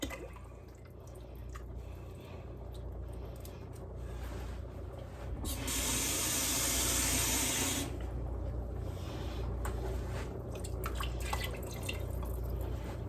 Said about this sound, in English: Now, this, I almost fill the can completely up. Swash it all around so I get all of it and get a good clean can.